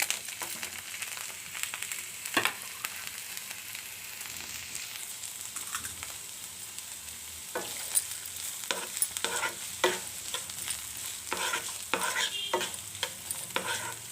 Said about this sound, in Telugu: ఇప్పుడు ఉల్లిపాయలు వేసుకున్నాను